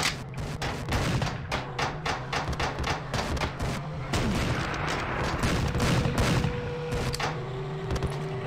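Repeated gunshots from a weapon in the 2008 steampunk first-person shooter The Principality of Mars, fired in a steady, fairly loud burst of shots over a continuous low game hum.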